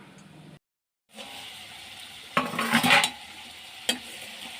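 Dried fish sautéing with pui leaves and spices in a pan, a soft sizzle with stirring scrapes and a brief clatter of utensil on metal, broken by a short silent gap near the start.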